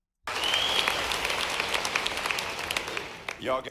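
A debate audience breaks into applause, a full wash of many hands clapping for several seconds before thinning out as a voice cuts in at the end.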